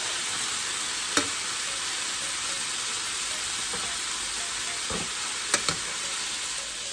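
Venison goulash meat sears in a hot pan, a steady, loud broadband sizzle that runs throughout, broken by a few sharp spattering pops.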